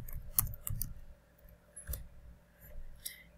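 Keys on a computer keyboard tap out a username during sign-up for a Scratch account: a handful of sparse, light clicks, close and fairly quiet, with no talking.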